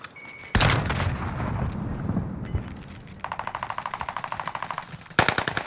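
Rapid automatic gunfire rattles close and loud in Call of Duty: Modern Warfare, with an opening blast, a heavy burst, then a long run of evenly spaced shots and another loud volley at the end.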